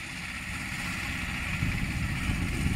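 A tractor crossing a field, its engine a steady low rumble that grows slightly louder as it approaches, heard alone at moderate distance.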